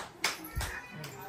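A few sharp, uneven hand claps at a family birthday celebration, three close separate smacks over a quiet room, with a hint of a voice between them.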